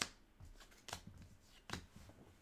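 Playing cards for a board game are shuffled close up and quietly in a few brisk riffling bursts, with soft taps between them.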